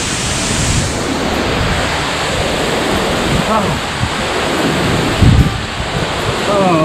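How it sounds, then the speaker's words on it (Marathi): The Ukhalu waterfall near Chandoli Dam roars as a steady, loud broadband rush close by, with wind buffeting the microphone and a brief thump near the end. "धबधबा बरोबर डोक्यावर आहे"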